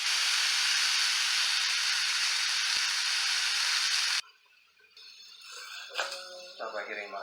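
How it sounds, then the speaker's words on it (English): A loud, steady sizzling hiss of pineapple in a hot pan fills the first four seconds, then cuts off abruptly, followed by faint clinks and a voice speaking. "An immediate sizzle is what you want to hear."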